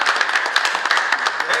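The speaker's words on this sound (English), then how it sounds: "that definitely deserves an applause" Applause from the audience at a city commission meeting, a dense, steady patter of many hands clapping for well over a second, with a voice talking over it.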